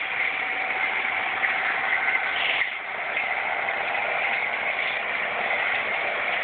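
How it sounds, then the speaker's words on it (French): A tractor engine runs in a steady, loud drone with a constant mechanical hum and only a slight dip midway, with no talk over it. "Le tracteur très fort."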